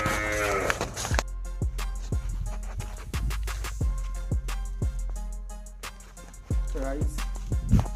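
A calf moos several times on a village farm, loud and close, with short low calls repeating across the clip and rustling in between.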